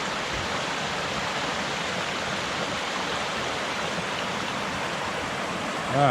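Phantom Creek pours along under a bridge on the Maple Valley Trail, a constant close rushing wash of water with no speech, ending in a brief louder bump.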